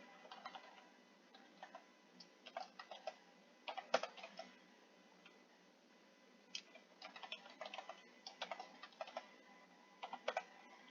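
Quick, uneven keystrokes clattering on a computer keyboard, coming in bursts with short pauses, fairly quiet and close.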